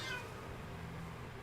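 A house cat gives one short, faint meow at the very start, then only a low room hum remains.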